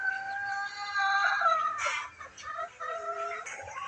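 A hen clucks close by while searching for a place to lay eggs, with a continuous run of fairly loud, throaty calls and no talking.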